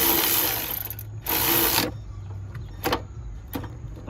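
Milwaukee power tool tightening a starter bolt on a 7th-generation Honda Accord, fitted with a wobble extension: a close, loud, continuous mechanical whir, then two further bursts and brief taps.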